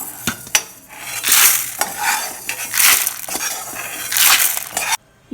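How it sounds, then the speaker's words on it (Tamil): Black sesame seeds dry roasting in a pan for idli podi, stirred with a utensil so they rustle and rattle against the metal in repeated scraping bursts, close and fairly loud, ending abruptly. "எள்ளு போட்டு வறுத்துக்கலாம் நான் கருப்பு எள்ளு போடுறேன்"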